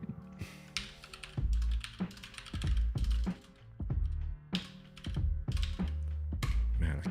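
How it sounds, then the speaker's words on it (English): Fast, uneven clatter of typing on a computer keyboard, close and fairly loud, coming in bursts of keystrokes separated by short pauses. "Man, I can't type."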